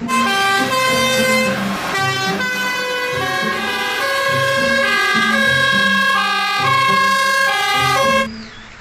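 Toy fire truck siren, a loud electronic wailing melody that repeats steadily for about eight seconds before cutting off abruptly.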